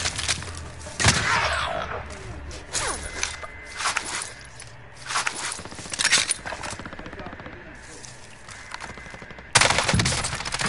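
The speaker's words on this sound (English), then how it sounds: "He's shooting at me!" Video game gunfire crackles in repeated bursts and rapid volleys, loud and close, with a heavy burst near the end and brief quieter gaps between.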